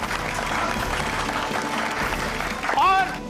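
Audience applause welcoming a couple onto the stage at a community health event, a steady dense wash of clapping under the host's voice, with a brief whistle-like tone near the end.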